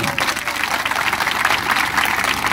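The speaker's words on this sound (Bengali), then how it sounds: "সকলের আমরা পক্ষ থেকে তাদেরকে একটু করতালির মাধ্যমে স্বাগত জানাই" Steady, loud applause from a gathered crowd welcoming organizers at a program, continuous clapping throughout with no pause.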